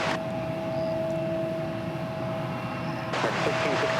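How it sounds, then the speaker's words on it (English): Boeing 787 Dreamliner at an airport, its engines giving a steady moderate roar with a faint tonal whine, a sharper burst of noise joining near the end; no talk over it. "There is that big Dreamliner."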